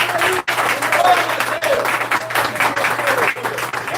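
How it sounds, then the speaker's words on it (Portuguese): Church congregation clapping in praise during a worship service, a dense, steady roar of many hands that fills the whole clip, with a faint hum beneath. "Bate palma da glória!"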